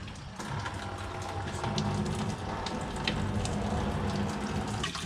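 Water rushing from a newly plumbed garage sink line, a steady splashing, hissing flow that starts abruptly and continues close and loud with no talk.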